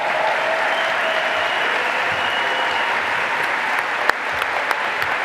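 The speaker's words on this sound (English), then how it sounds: "let's give one more huge round of applause for this graduating class here today" Sustained applause from a commencement audience honoring a graduating class, a dense steady roar of clapping across the whole stretch with a few sharper claps near the end.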